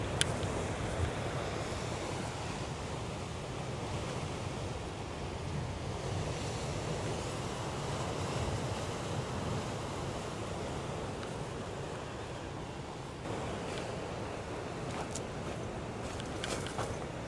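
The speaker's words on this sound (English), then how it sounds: "The ocean just crashing." Ocean waves crash steadily against red rocks at ocean level, a continuous broadband roar of surf with wind buffeting the microphone, no voices over it.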